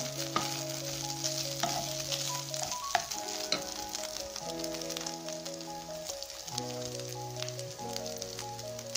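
Garlic fries in a pan with a steady, gentle sizzle and crackle. Soft stirring clinks and scrapes come through at intervals, and no one speaks.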